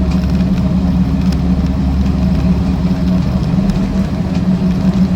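A Land Rover Series IIa 88in soft top drives on the road on 7.50/16 aggressive-tread tyres on leaf springs, giving a steady, loud, low engine drone with continuous tyre roar inside the cab and no talk.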